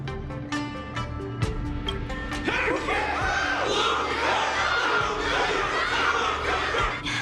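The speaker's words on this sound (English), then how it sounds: "Everyone's cheering for you, Luca." A video game crowd erupts into loud cheering and shouting after a few sharp hits in a battle, the roar sustained and dense, with a game-like soundtrack feel.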